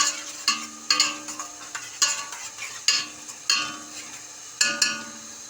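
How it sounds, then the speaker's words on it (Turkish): Onions for spinach soup sizzle softly in a pan while a utensil scrapes and stirs in repeated bursts, each stroke sharp and close. "Çorbamın soğanları kavruldu."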